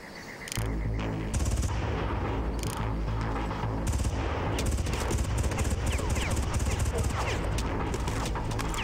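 Gunfire in the Far Cry video game: sustained rapid automatic bursts with dense shots, loud and close, continuing almost without pause.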